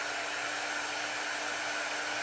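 A hair dryer runs steadily on freshly painted coffee mugs, a constant close whooshing blow with a steady hum and no breaks.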